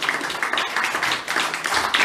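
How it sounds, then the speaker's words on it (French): Brief, steady applause from an audience at an alumni gathering, many hands clapping together at moderate loudness. "et vous pouvez les applaudir"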